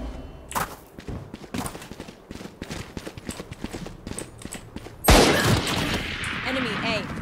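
Gunfire in Valorant rings out as a rapid string of sharp shots, followed by a louder, sustained burst of noisy action near the end, with a voice talking over it.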